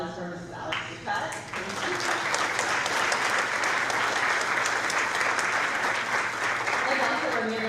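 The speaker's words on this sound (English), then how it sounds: "So I would like to have a big round of applause for Mrs. Alex Ducat." A school assembly crowd breaks into a big round of dense, sustained applause that swells after a moment and holds steady, with a voice briefly audible at the start.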